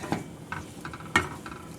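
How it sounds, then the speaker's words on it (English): Onions, garlic and mushrooms sautéing in butter, with a steady sizzle under a few scraping stirs of a spatula through the pan, close and clear. "So now that we got our onions, garlic, and mushrooms here sauteing in the butter here, we're going to just stir these around"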